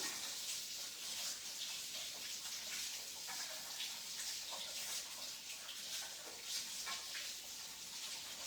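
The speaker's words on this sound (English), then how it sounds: "I'll wash my hands 1 second." Kitchen tap running steadily while hands are washed, a faint even hiss of flowing water with small splashes and no voices.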